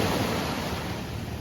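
Sea waves at the shore near Dumaguete, Negros Oriental, in the Philippines, make a brief, steady roar of surf that fills the moment with no voices.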